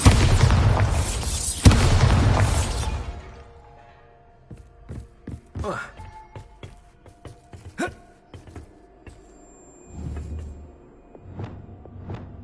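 In the Hogwarts Legacy video game, the Bombarda spell sets off a loud, rumbling explosion that fades over a few seconds. Scattered taps, thuds and faint game sounds follow.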